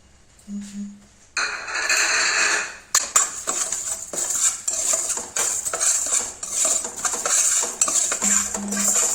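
Urad dal tipped into a frying pan and stirred with a metal spoon, bright scraping and clinking of utensil against pan with faint sizzle, loud and continuous.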